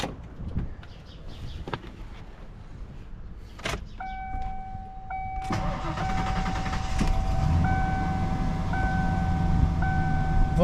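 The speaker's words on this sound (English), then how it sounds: "Alright, let's go start the truck," A 1995 Ford F150 with an upgraded 130-amp alternator cranks and fires after a door thump and a few chime tones, then settles into a steady idle close by, with no voices.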